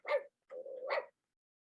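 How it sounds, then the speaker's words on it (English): A Joy4All robotic pet dog gives two short electronic barks, the second drawn out, close and fairly quiet, with silence between and after. "This is a robotic animal."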